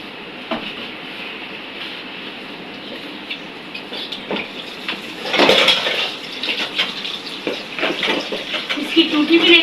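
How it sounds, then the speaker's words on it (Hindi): Containers are scrubbed and rinsed with soap and water, with running water, sloshing and intermittent clattering and scraping that grow louder and busier partway through. "मैंने कहा डब्बों को साबुन से वॉश कर लेते हैं"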